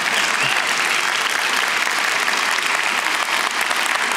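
A conference audience at a feminist foreign policy event bursts into loud, dense, sustained clapping that fills the room without letup.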